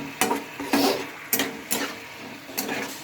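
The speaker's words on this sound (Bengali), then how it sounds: "এই পাস্তাগুলো দিয়ে একটু ভালোভাবে নেড়ে চেড়ে নেব" Pasta being stirred into a gravy in a pan, with a spoon scraping in repeated wet strokes roughly every half second over a soft sizzle.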